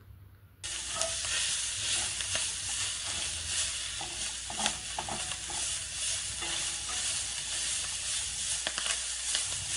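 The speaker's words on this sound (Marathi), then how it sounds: "त्यानंतर आपण कढईमध्ये तेल टाकून त्यामध्ये भेंडी भाजून घेणार आहोत" Okra hits hot oil in a kadhai and bursts into a loud, close, continuous sizzle that keeps hissing steadily with small crackles throughout.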